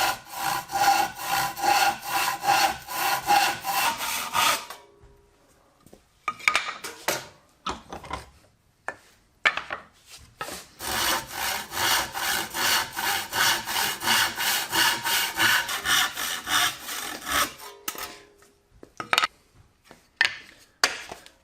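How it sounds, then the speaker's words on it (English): A crosscut panel saw cuts wood for a Tolpin tote in two long runs of steady rhythmic hand strokes, close and clear, separated by a pause filled with light handling knocks. "I use my crosscut panel saw."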